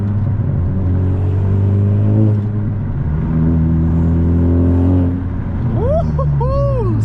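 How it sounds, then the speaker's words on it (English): A straight-piped 2021 Honda Civic FK7 hatchback with a Skunk2 exhaust drones loudly up close, its pitch climbing in two revs before high, rising turbo whistles sweep in near the end. "You can hear the turbo spool."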